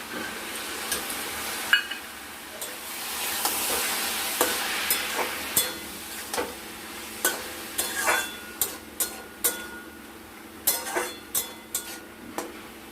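Cumin paste being stirred into a fish-head, potato and cabbage curry in a pan, a soft continuous sizzle under a series of sharp spoon clinks and scrapes against the pot, close and steady.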